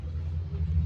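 A diesel vehicle engine idles nearby at an outdoor home gathering, a low steady rumble holding throughout the brief moment with no talk over it.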